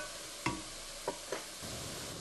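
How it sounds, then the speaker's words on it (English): Vegetables sizzle in oil in a pan, a quiet continuous hiss broken by three soft scraping stirs early on. "Now all my vegetables are cooking down."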